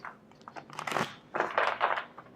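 Tarot cards being shuffled by hand nearby, soft papery riffles and crinkly flutters in two quick bursts separated by a brief pause.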